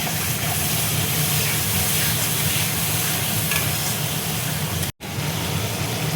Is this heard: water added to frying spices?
yes